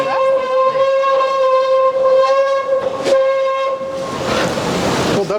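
A squeaking escalator in Grundy, Virginia gives out a loud, sustained high-pitched squeal with a harmonic whistle-like tone that holds for several seconds, then breaks into rougher scraping grinding noise near the end.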